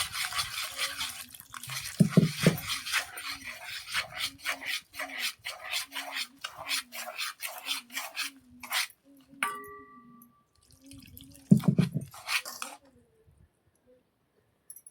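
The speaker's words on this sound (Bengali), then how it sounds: "কম কম করে পানি ঢেলে দেবো আর গুলটা ঢালবো।" Water poured little by little into flour and sugar batter while it is stirred, with close rhythmic scraping strokes, a brief trickle and light clinks in a pause, then more stirring before it quiets.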